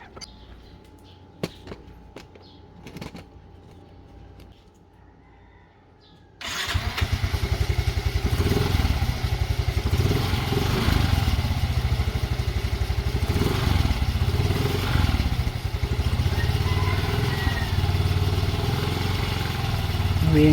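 After a few seconds of quiet with faint clicks, a motorcycle engine, just serviced with fresh oil and gear oil after flood exposure, suddenly fires up and settles into a loud, steady, rumbling idle close by, without smoke from the exhaust.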